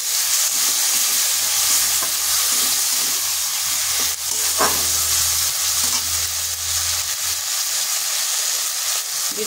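Grated tomato fries in a hot pan and is stirred, giving a loud, continuous hissing sizzle with occasional scraping strokes of a spoon throughout.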